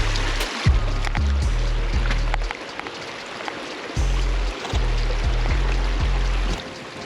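Footsteps wading through a shallow river beneath the Glenfinnan Viaduct in Scotland, with repeated low splashing strides and moving water close by, stopping briefly midway before the sloshing resumes.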